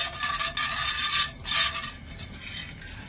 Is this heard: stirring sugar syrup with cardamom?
yes